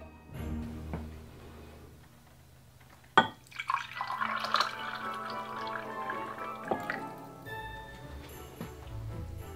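Chocolate and milk, both already liquid, are mixed together for hot chocolate: a sharp clink followed by soft, faint sloshing and dripping liquid sounds in a quiet setting.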